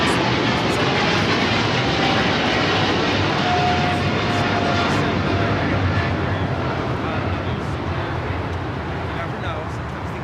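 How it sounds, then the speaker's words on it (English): A China Cargo Airlines Boeing 777 freighter departs LAX runway 25 left, its engines a steady, loud broadband roar that holds for the whole stretch and fades only slightly toward the end, with some speech-like sound mixed in. "That was Cargo King, China Cargo Airlines, Flight 222, heading to Shanghai. The 777 freighter."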